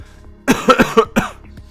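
A short burst of harsh, wet coughs, several hacks in quick succession, close and fairly loud, with a quiet pause before them.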